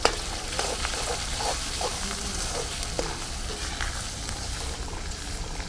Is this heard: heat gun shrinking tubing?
no